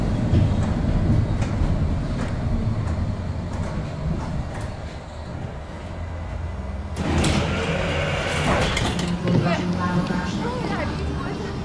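Interior of a Czechoslovak T5C5 tram on a Budapest street: a steady low rumble and rattle of wheels on rails, then a burst of door and mechanism noise near the seven-second mark, with people talking throughout.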